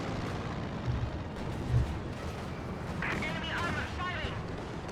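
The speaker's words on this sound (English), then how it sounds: "Stun grenade comes down in." A stun grenade goes off during a Company of Heroes 2 match: a couple of dull low thumps within a dense, noisy battle din, with a commentator talking over the action.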